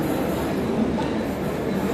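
A Mumbai local train rumbles past close by, a steady loud mechanical roar with faint rattling of wheels on track, no talking.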